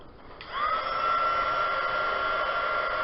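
A hair dryer switches on and blows steadily over resin, a constant close, high whine and rushing air after a brief start.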